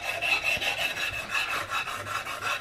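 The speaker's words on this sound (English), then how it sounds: "Now I'm using my file back sandpaper technique, just like we have been through the whole process, so that we get a nice even finish." Steady rasping scrub of file-backed sandpaper worked gently over a wooden gun stock for an Investarms Gemmer Hawken rifle, smoothing file marks ahead of staining; close and continuous with a rhythmic back-and-forth stroke and no talking.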